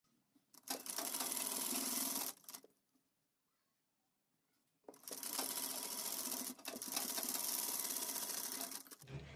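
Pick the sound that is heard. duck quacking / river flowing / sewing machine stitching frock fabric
sewing machine stitching frock fabric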